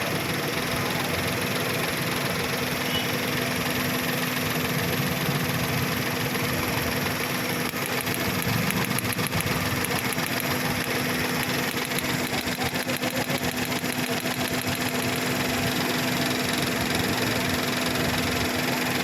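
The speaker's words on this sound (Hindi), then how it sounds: "तो ये हमने गाड़ी को स्टार्ट कर दिया है और इंजन बिल्कुल ये साइलेंट हो गया है।" A Hyundai Eon's engine, being checked for a cylinder 2 misfire, idles steadily after starting, giving a continuous even hum with a faint mechanical ticking throughout.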